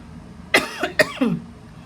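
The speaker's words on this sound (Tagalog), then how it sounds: "inuubo kasi ako." Three or four harsh coughs close to the mic, bunched together in quick succession with short pauses between them.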